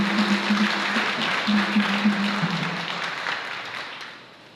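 A church congregation at a solemn Mass for the feast of Saint Clare applauds warmly, a dense, sustained clapping that fills the space with a low tonal hum beneath and tapers off at the end.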